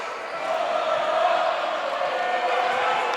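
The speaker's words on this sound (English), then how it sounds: "And the crowd has begun to make some noise." A high school basketball crowd at a Cros-Lex vs. St. Clair game fills the gym with a steady, loud roar of voices and cheering that holds without a break.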